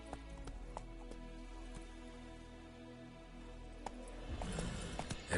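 Rhythmic clip-clop of a horse galloping in a video game, steady hoofbeats under quiet background music, growing louder and busier near the end.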